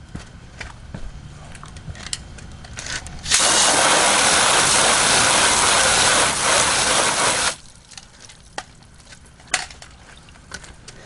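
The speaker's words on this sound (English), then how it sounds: "Let's go ahead and wash it off with the actual hose and see what happens." A garden hose sprays water over a Honda Prelude to rinse off bug cleaner. A loud, steady hiss runs for about four seconds, with quieter ticks and handling noise before and after.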